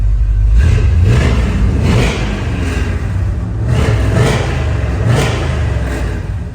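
A 1964 Chevrolet Corvette engine revs repeatedly, rising and falling in several throttle bursts over a steady low rumble, loud and close.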